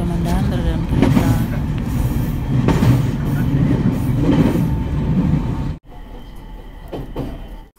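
Train running between Sendai Station and Tohoku Fukushidai Mae, heard from inside the carriage: a loud continuous rumble with rhythmic wheel thumps that drops abruptly near the end, with speech over it.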